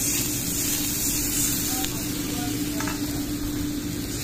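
A small amount of water hits frying fish in hot oil while cooking a fish curry, giving a loud, continuous hissing sizzle that fills the whole stretch without letting up.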